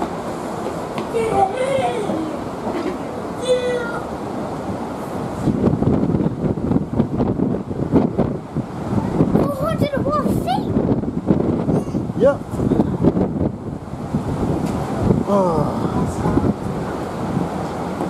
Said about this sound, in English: It's a bit windy out